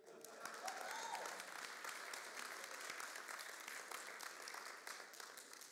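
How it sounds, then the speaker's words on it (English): Steady applause from a church congregation, a continuous wash of clapping at moderate volume lasting several seconds without pause. "Another round of applause."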